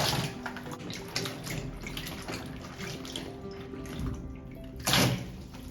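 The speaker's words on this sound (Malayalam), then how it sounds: "ഇലകളും കേട് വന്നതൊക്കെ മാറ്റി 2-3 തവണ വെള്ളത്തിൽ നല്ലപോലെ കഴുകിയെടുക്കണം." Rose apples being washed in water, with continuous sloshing and splashing close by, steady throughout and a louder burst of water near the end; no one speaks.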